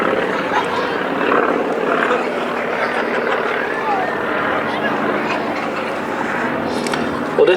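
A YAK-50 aerobatic plane with a seven-cylinder radial engine drones steadily at an airshow, a loud, continuous propeller roar that holds for the whole stretch. Someone commentates over it.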